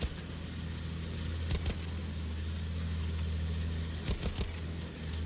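Vehicle engine in the World War I shooter Battlefield 1, likely a tank or car being driven, giving a steady low rumble throughout with a few brief clanks and bumps over it, and no talk.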